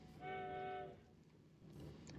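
A steam locomotive in a Minecraft modpack gives one sustained whistle blast, a bright steady tone lasting under a second over a low rolling rumble that carries on after the whistle stops.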